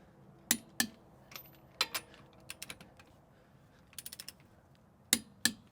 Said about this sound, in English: if you've never used a torque wrench before, you go till it clicks